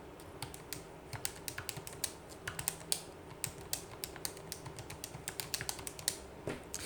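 Rapid keystrokes clatter on a computer keyboard during a regression lecture, a close, irregular run of light clicks in quick bursts, with no talk over them.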